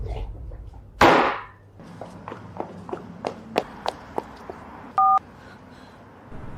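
Someone dials a phone number to a switched-off phone: a loud thump, then a run of sharp, evenly spaced key clicks, and finally a short, clear dual-tone beep, close and with no talking.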